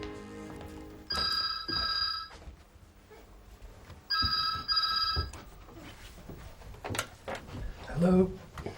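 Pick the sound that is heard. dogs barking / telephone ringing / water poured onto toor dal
telephone ringing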